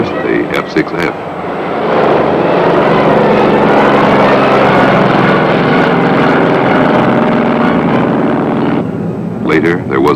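A Grumman F6F fighter's propeller engine drones loud and steady for about seven seconds, rising in after a short lead-in and cutting off near the end, with brief sharper sounds at the start and finish.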